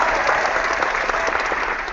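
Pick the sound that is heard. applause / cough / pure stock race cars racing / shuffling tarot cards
applause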